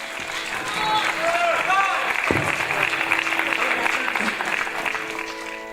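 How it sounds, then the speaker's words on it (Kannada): An audience claps loudly for the young singer Pranav after a devotional song performance. The dense, sustained applause runs under a host's voice, with scattered cheers near the start. "ಇವಳಿಗೆ ಜೋರಾದ ಒಂದು ಚಪ್ಪಾಳೆ."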